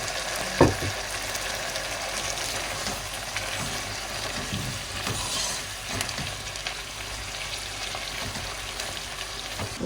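Potatoes and chestnuts fry in a pan for Azerbaijani bozbash, giving a steady, close sizzling hiss throughout with a single clank near the start and no talking.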